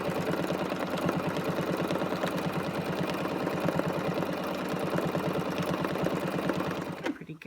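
A sewing machine runs steadily, stitching over earlier rows while free-motion quilting a wildflower pattern. The needle whirs close and loud without a break, then stops abruptly just before the end.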